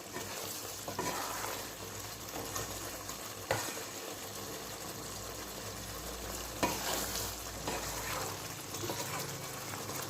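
Sliced ridge gourd fries in a pan and is stirred, a continuous sizzle broken by a few sharp scraping strokes of the spatula, close and moderately loud.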